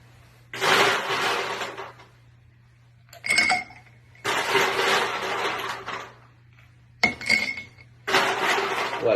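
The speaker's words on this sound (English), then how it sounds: "Now we must add in the ice." Ice cubes for a Boulevardier cocktail tumble into a glass in separate bursts of bright clinking and rattling, with a low steady hum beneath and short quiet gaps between the pours.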